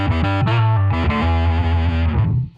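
A bass guitar runs through a Boss OC-3 Super Octaver pedal in drive mode, giving a slightly distorted, growling tone with a short run of plucked notes, loud and close, ending as the last note fades.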